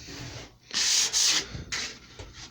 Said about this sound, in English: these are getting a bit of dust and crud on, so I'm going over with them all, give them a sand